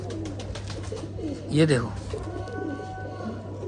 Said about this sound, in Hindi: देखो गाइस गिफ्ट में आए हुए कबूतर हैं सऊद भाई के यहाँ रामपुर के अंदर